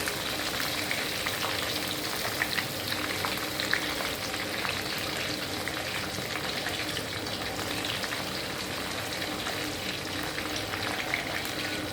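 Sun-dried beef frying in oil gives a steady, dense sizzle and crackle that stays even throughout, close and moderately loud with no talking.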